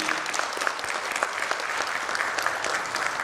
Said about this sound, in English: Can we have a big round of applause for Mahesh ji?